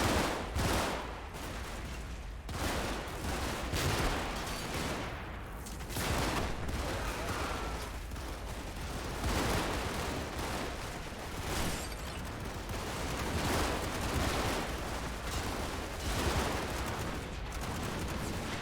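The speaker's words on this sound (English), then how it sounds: "They do come under heavy fire from pretty much every machine gun and rifle set up in every window on my side of the canal." Continuous machine gun and rifle fire from a WW2 battle in Combat Mission: Normandy, dense overlapping bursts and cracks with no pause across the whole stretch.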